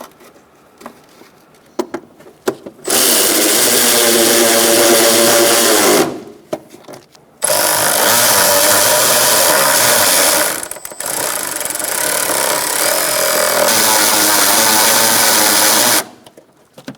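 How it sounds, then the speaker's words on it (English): Bolts being driven back in on a 2004-2009 Mazda 3 MAP sensor mounting, close and loud bursts of a power tool whirring, three long runs separated by short pauses and small clicks. "Now we're going to put our bolts in."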